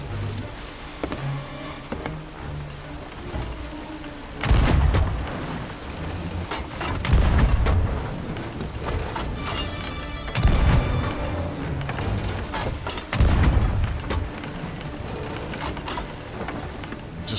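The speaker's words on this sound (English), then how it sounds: "Just firing wildly, hoping to hit it at this point." Weapon fire and explosions in a video game, heavy booms recurring every few seconds over a constant dense rumble of gunfire and noise, loud and continuous.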